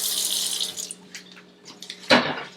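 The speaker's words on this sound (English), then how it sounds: "cover your eggs with 2 inches of water." Tap water runs into a pan of eggs, a bright hissing stream for about a second, then lighter splashes and a sharper knock as the pan is handled, with no talk.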